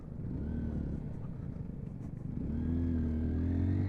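A Honda XR150L motorcycle rides along with a steady, close engine drone whose pitch climbs as the throttle opens near the end, with a little clatter and rumble underneath.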